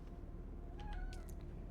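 A cat makes a few short, faint meows and chirps in quick succession over a constant low background hum.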